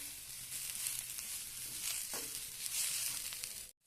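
Chicken filling for spring rolls sizzles steadily in a pan with garam masala, cumin, coriander powder, salt and turmeric, a dense close frying hiss with occasional stirring scrapes, cutting off abruptly near the end.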